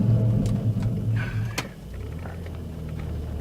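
A manual-transmission car cruises with a steady low engine rumble that eases slightly partway through, with faint clicks over a continuous road drone.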